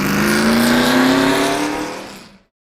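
A late-1960s triple-carbureted V8 muscle car roars loudly and steadily at high revs, then fades away quickly into silence.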